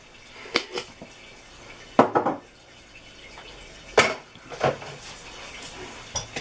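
A lid is set onto a container while jam tarts are being made in a kitchen, giving a few scattered knocks and clatters of crockery, spaced apart over quiet room tone.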